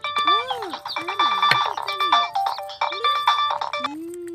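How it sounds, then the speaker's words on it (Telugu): A mobile phone ringtone plays a bright, repeating electronic melody up close for a few seconds, loud and alone, before a call is answered. "లాయర్ వర్మ గారి ఫోన్."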